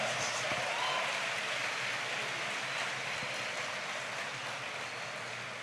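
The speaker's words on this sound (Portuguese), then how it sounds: "dê uma forte salva de palmas para as mulheres" Distant, soft applause from a church congregation rolls on as a steady wash of clapping, muffled and even with no voices standing out.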